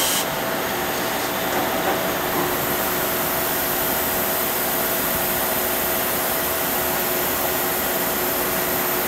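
In a machine shop, compressed air blasts onto a machined workpiece as a loud, steady hiss that fills the whole stretch without a break and without any voices.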